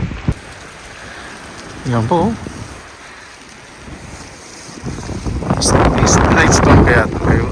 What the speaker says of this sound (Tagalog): Night storm kaya ito ngayon. Lakas ng hangin.